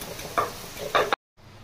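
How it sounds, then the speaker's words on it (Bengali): Onions broken apart with a spatula in a hot frying wok, a low sizzle under two sharp scraping, clattering strokes, then a sudden cut to near silence. "কড়াইতে দিয়ে আমাকে প্রতিবারই এরকম ভেঙে দিতে হয়।"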